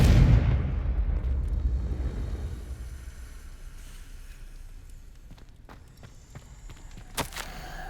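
A Confringo fire spell from Hogwarts Legacy bursts in a loud, close blast that rumbles and slowly fades, leaving quiet ambience with a few small clicks and a brief knock near the end.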